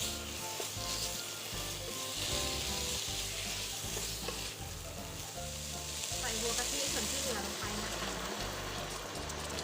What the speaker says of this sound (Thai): เราจะรวนไก่ก่อนนะคะ